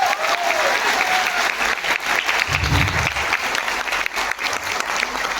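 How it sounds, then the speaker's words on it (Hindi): An audience at a live singing concert bursts into loud, sustained applause and cheering, dense clapping filling the whole stretch with crowd noise mixed in. "एक बार जोरदार तालियां अपने लिए"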